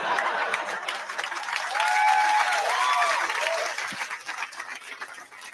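A comedy show audience breaks into applause mixed with laughter, a broad crowd wash that swells and then tapers off, heard at a distance with a few brief voices poking through.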